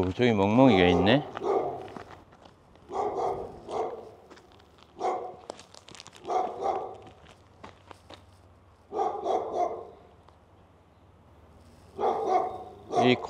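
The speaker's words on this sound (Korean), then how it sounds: "오, 저기 멍멍이가 있네." A dog barks in repeated bursts at an abandoned, fire-damaged seaside condo resort in Naksan, Donghae, the barks fairly close and separated by short quiet gaps, with footsteps and a faint low hum between them.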